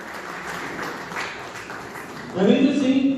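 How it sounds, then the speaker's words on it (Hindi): Audience applause breaks out at a railway week award ceremony, a burst of clapping rising near the end over a voice speaking. "रविंद्र सिंह के लिए जोरदार तालियां।"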